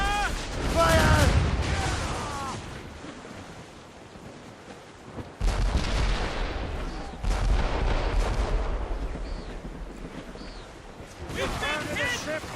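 Naval cannons fire from a sailing ship in an Assassin's Creed game, with several heavy booms at intervals over rushing sea and wind and shouted crew voices between the volleys.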